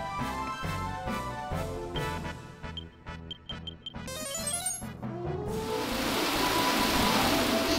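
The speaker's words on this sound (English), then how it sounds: "She's just gonna keep killing everything with her coral rain." A coral rain spell effect from a PS1 role-playing game plays as a run of rhythmic chiming and pattering tones that gives way to a rising wash of rain-like hiss, with no talk.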